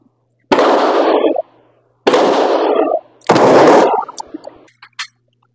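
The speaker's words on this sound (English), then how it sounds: "Last shot" Three loud gunshots from a 6-inch Ruger GP-100 revolver, fired outdoors with pauses between them; each crack rings out with a long decaying echo, and the last fades into scattered quieter reflections.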